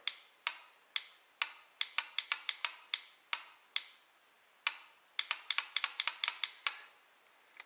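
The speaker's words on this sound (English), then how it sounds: "The starter relay is clicking, but the bike doesn't want to turn over" Starter relay on a Honda CBR 929 motorcycle that will not turn over clicks repeatedly, sharp close ticks in uneven bursts, sometimes rapid and sometimes spaced, with no engine cranking and no voices.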